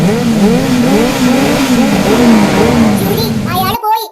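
A car engine hums and revs under a long stretch of overlapping talk, the pitch rising and falling as it moves slowly to park, then drops away abruptly near the end.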